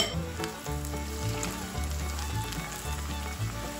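Onions and peppers sizzle steadily in a hot pan, a close, crackling fry with no talking.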